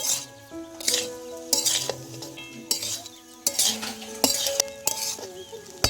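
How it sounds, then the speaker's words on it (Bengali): Fried rice stir-fried in a pan over a village clay wood-fired stove, repeated scraping strokes of a metal spatula and clinks against the pan over a soft sizzle, with faint music beneath. "এই একই পদ্ধতিতে আমি আরও দুবার ভাতগুলোকে ভেজে নেব"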